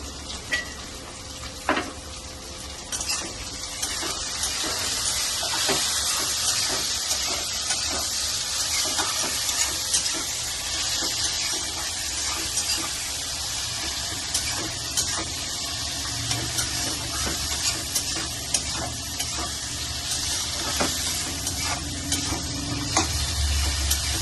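Chopped tomato and onion sizzle steadily in a hot pan with salt, stirred now and then, with occasional scrapes and clinks of a utensil against the pot throughout, close and continuous with no talking.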